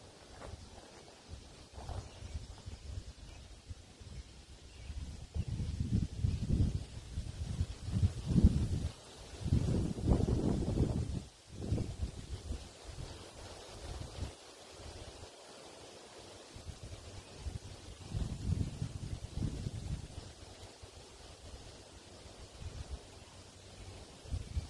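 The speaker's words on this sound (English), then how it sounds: "Sorry if it's really windy right now." Gusty wind buffeting the microphone outdoors while fishing at mud bogs, low rumbling surges that rise and fall over about twenty-five seconds, with no one speaking.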